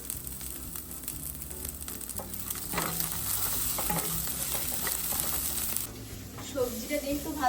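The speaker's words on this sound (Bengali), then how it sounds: "মোটামুটি ভাজা ভাজা হয়ে গেছে সবজিটা" Vegetables stir-frying in a pan give a steady close sizzle with scraping stirs and clinks of the spatula, continuing throughout with faint background voices.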